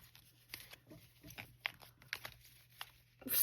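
Stiff new tarot cards being folded together and shuffled by hand, giving brief crinkly riffles and soft card snaps, close and fairly quiet, with a louder rustle at the end.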